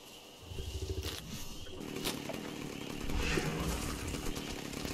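A chainsaw cuts through trees in the ARK video game, its engine revving in bursts with a rough buzzing snarl over other game sounds.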